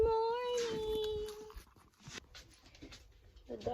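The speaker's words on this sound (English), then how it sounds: "The dog wants food." A dog whimpers for food, giving a high, wavering whine with harmonics for about a second and a half, followed by quieter snuffling and small movements nearby.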